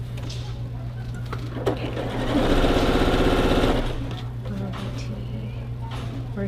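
A sewing machine chain-piecing quilt blocks runs in a steady mechanical burst through the middle, over a constant low hum, with a brief spoken word nearby.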